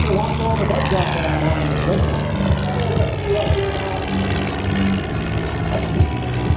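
A Long-EZ airplane powered by a Lycoming engine flies at an air show, its propeller engine droning steadily and loudly throughout with a slowly shifting pitch and distant crowd noise underneath.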